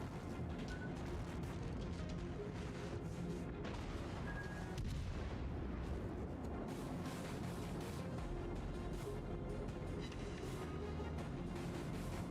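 An enemy warship fires its guns in the naval combat game World of Warships, heard as dense, continuous booming artillery with heavy low rumble and repeated blasts over a constant battle roar.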